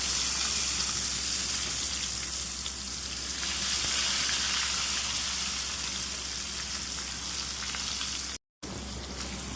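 Pieces of pointed gourd (potol) frying in hot oil after shing fish was fried, giving a steady, close, dense sizzle with no talk, briefly cut off near the end.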